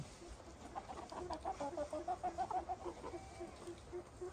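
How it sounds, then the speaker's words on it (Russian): Chickens clucking in quick, repeated bursts, fairly faint and close together, with a soft background hum; a flock of 9 roosters and 25 hens. "вот 9 петухов и 25 кур"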